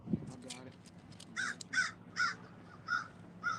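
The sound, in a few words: bird cawing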